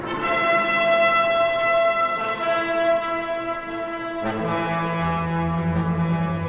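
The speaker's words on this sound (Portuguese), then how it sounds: "tocaram as cornetas" Sustained brassy horn tones sound in layered, overlapping notes, changing pitch partway through, loud and continuous with no talking.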